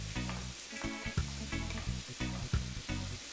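Pork belly stirred in a pan with Worcestershire and oyster sauce, a steady sizzle broken by repeated scraping strokes of a spatula, roughly every second or so, close and fairly loud.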